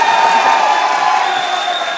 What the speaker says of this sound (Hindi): अब बजा लो तालियां।